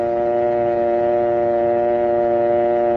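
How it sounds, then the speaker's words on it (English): A telephone dial tone hums as a steady, continuous buzz with strong harmonic overtones, loud and close, holding unchanged for about three seconds with nothing else heard. "Then remove the receiver and listen for the dial tone."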